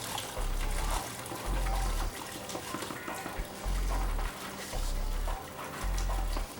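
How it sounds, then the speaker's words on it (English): Clay poured and sifted by hand into water, giving a steady trickling, dribbling pour in several close bursts with short pauses between. "pour it into this water I have here"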